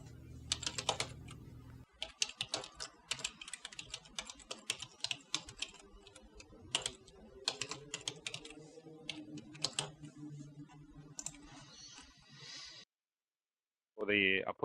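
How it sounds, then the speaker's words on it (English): Computer keyboard typing as a name and email are entered for an online login, rapid irregular key clicks in close bursts, with a brief gap near the end followed by a short burst of other sound. "Just typing in my name and my email."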